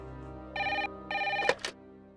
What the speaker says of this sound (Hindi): फोन बज रहा है, तू जा जा जा भाई।